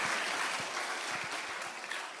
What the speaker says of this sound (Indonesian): Jadi tolong berikan tepuk tangan kepada saya.